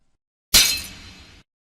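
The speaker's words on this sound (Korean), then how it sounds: "손이 미끄러져 국그릇을 바닥에 떨어뜨렸습니다." A soup bowl slips from a hand and smashes on a home floor in one sharp, loud crash, followed by about a second of fading, scattering shards.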